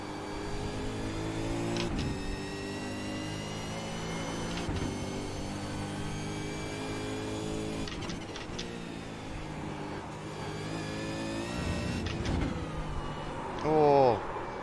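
V8 Supercar engine in the iRacing sim at Suzuka, a steady droning harmonic note rising and falling through shifts across the whole stretch, with a brief tire squeal near the end.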